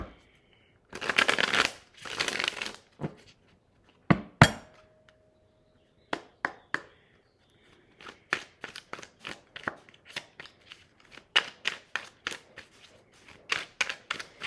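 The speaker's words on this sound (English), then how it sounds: "I may take a wild shuffle in this" Tarot cards being shuffled in quick riffling bursts, with a few sharp taps and pauses between, close up and fairly loud.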